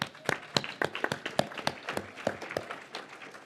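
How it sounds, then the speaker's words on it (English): Scattered clapping from a conference audience at SXSW EDU 2018, a few dozen uneven claps building into light applause that thins out after a few seconds. "Can we clap for that one?"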